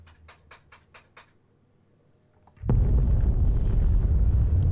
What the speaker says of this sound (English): Oh, there's explosions.